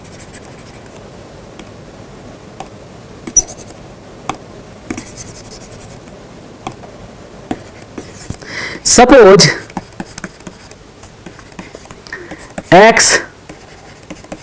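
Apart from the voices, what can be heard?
writing by hand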